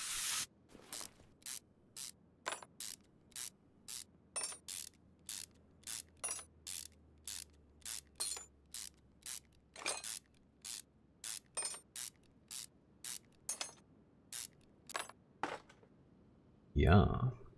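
Short bursts of ratcheting and mechanical spray-like whirring repeat at a steady rhythm as engine parts are unscrewed to reach the camshaft in Car Mechanic Simulator 2021, each one brief and crisp against a quiet background, with a voice speaking near the end.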